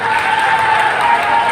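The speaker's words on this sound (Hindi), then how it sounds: "वसुंधरा जी के लिए आप जोरदार तालियां बजाओ।" Dense, steady crowd applause and cheering from a large audience at a political rally in Rajasthan, loud and continuous with no break, filling the whole moment.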